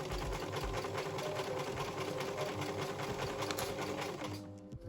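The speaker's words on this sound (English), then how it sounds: "we're just going to take it to the sewing machine and sew a straight stitch all along that" A sewing machine running a straight stitch along fabric, a fast steady mechanical whirring and rapid needle clatter close up, continuous before slowing and stopping at the end.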